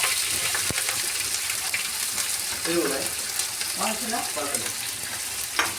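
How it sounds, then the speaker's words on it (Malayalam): Ginger-garlic paste, green chili, curry leaves and onion sautéing in hot oil for an anchovy fish curry, a loud continuous sizzle with scraping stirs and a sharp clack of the spoon against the pan. "ഇത്ര സാധനം ഇട്ട് നമ്മളിതൊന്ന് വഴറ്റിയെടുക്കാം"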